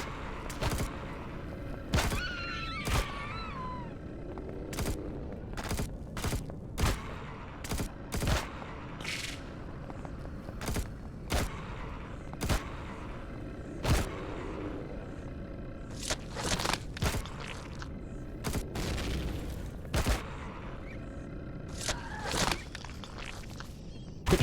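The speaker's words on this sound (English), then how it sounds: "Quit shooting me, dang it." Enemy gunfire aimed at the player in the space game Cheyenne CV, scattered sharp shots and thuds spread irregularly across a long stretch of steady background noise, with no talk.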